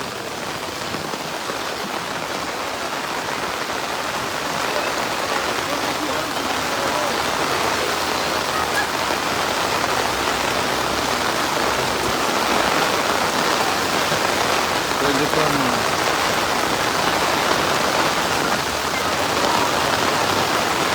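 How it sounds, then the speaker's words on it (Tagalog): Heavy rain pours steadily on a flooded city avenue, a dense, constant hiss of drops on surfaces, loud and unbroken throughout. "lakas ng ulan."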